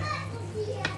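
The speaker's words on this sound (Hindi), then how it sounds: "पीछे आप लोगों को मेरी फैमिली के बच्चों का शोर भी सुनाई दे रहा होगा।" Children play somewhere behind, their voices and shouts mixing with a low steady hum in a home kitchen while chicken achari karahi is being cooked.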